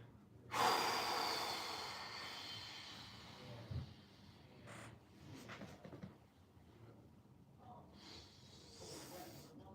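A single deep breath exhaled close up, a strong rushing breath followed by quieter breathing and soft movement noises.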